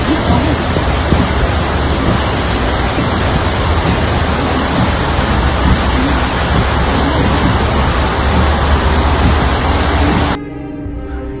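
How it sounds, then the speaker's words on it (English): Heavy rain and floodwater on a Georgia highway left impassable: a steady, loud wash of rushing water and downpour noise fills the scene without a break, then drops off abruptly near the end. "The main highway in Georgia is affected by heavy rain, rendering the road completely impassable."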